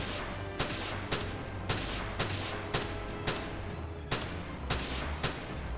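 Shotgun blasts in Palworld ring out in a steady rhythm, about ten sharp reports roughly half a second apart, layered over a dense, noisy backdrop of game sound with no talk.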